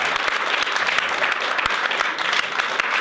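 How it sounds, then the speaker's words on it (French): Steady applause from an audience, continuous clapping throughout with a dense, even texture and no talking. "c'est Bruno Attal, on peut t'applaudir"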